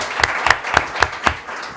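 A small audience at a medical talk gives a short, sparse round of applause: a handful of distinct, evenly spaced claps lasting under two seconds.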